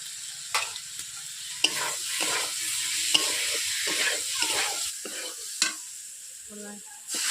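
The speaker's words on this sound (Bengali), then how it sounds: "ফুলকপি আর আলুকে বেশ ভালোভাবে আমি কষিয়ে নিচ্ছি।" Cauliflower and potatoes being sautéed and stirred in a karai with salt: a soft, continuous sizzle broken by repeated scraping strokes of a spoon, close and steady, with no talking.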